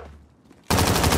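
Loud, rapid automatic gunfire from Call of Duty: Warzone on Rebirth Island bursts in suddenly after a quiet moment and continues as a dense, close stream of shots.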